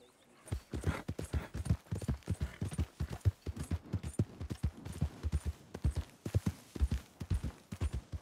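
Horse hooves clip-clop steadily on the ground in Red Dead Redemption 2, a close, even rhythm of sharp repeated footfalls running throughout with no talk over it.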